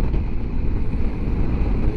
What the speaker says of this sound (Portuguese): Mas olha aí como está o vento